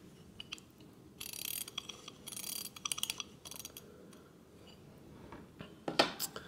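Reuge automaton musical pocket watch being wound from the back with its original lyre-shaped ratcheted Bruguier-style key, a series of fine close clicking ratchet bursts, quiet, with short pauses and a sharper click near the end.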